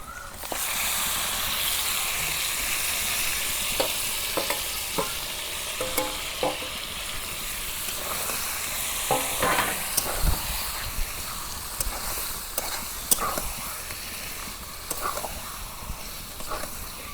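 Broiler chicken curry is stirred in a hot pan, a constant loud sizzle broken by repeated scraping and clattering of the spoon against the pan.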